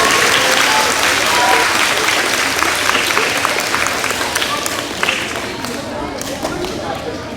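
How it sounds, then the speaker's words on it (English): A school audience at a Red Ribbon rally claps in a dense, sustained round of applause that slowly tapers off, with scattered cheers in the crowd. "Give them a round of applause as well."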